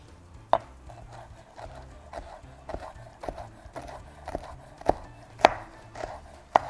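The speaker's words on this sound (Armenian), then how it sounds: "Այստեղ պետքա կտրատենք մեր բազիլիկները։" Basil leaves being chopped with a knife on a board, a series of sharp irregular taps and thuds at a steady working pace, close and fairly quiet with no talk.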